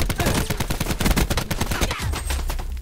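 Rapid gunfire from Call of Duty: Black Ops 4, a close, loud series of sharp shots in quick bursts with a brief pause near the end before firing resumes.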